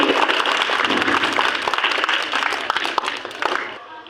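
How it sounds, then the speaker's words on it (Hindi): Audience applause at an award ceremony for madrasa children, a dense, steady wash of many hands clapping that carries through the whole stretch, with a few sharper individual claps near the end. "ताली से इसका स्वागत करेंगे"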